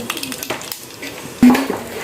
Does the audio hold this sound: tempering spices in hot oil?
yes